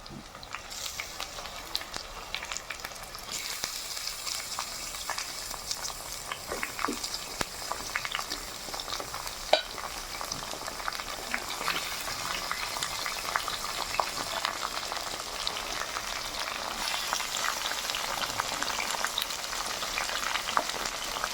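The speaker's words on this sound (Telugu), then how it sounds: "ఇప్పుడు ముందుగా కడిగి కట్ చేసి పెట్టుకున్న చికెన్ అయితే బంట్లో వేసేస్తున్నా." Chicken pieces fry steadily in a pan with onions for chicken chukka, a dense continuous sizzle and crackle with occasional stirring, close and alone with no talk.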